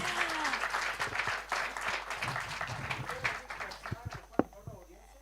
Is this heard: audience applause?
yes